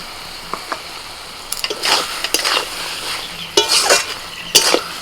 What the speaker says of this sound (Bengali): পোস্তটা দিয়ে ভালো করে নাড়াচাড়া করে এবার দিয়ে দিচ্ছি একটুখানি আমি কাঁচা সর্ষের তেল